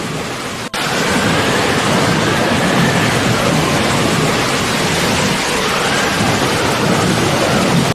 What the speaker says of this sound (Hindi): आकाश में घने बादल घिरने लगे और कुछ ही देर में मूसलाधार बारिश शुरू हो गई।